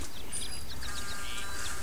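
A goat bleats in the Shrek 2 PS2 video game, a continuous bleating sound with bird-like chirps over dense game background noise and music.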